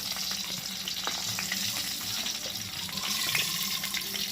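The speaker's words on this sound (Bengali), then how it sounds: "ঠিক একই পদ্ধতিতে পটলটাও ভেজে নেব পুরো লাল করে ভেজে নিতে হবে" Pointed gourd pieces fry in hot oil, a dense, continuous close sizzle with crackling spatters throughout, steady in level and without any talking.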